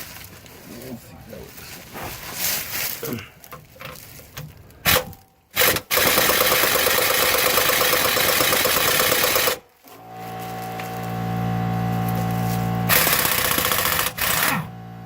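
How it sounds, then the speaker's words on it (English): Impact wrench breaking loose a bolt on a Toyota MR2 AW11 engine mount, loud sustained hammering rattle in two long bursts with a pause between, preceded by clanking and some talking. "we're going to use the trusty impact wrench to break it loose"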